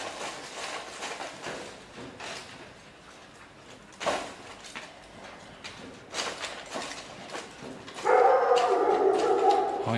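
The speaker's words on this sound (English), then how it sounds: "there's lots of dogs, all of whom live outside" Dogs that live outdoors in a refugee camp street bark now and then amid general street noise, with hoof-like clopping and a louder steady sound coming in near the end.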